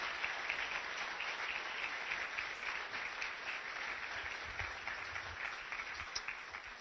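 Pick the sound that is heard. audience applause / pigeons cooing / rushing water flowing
audience applause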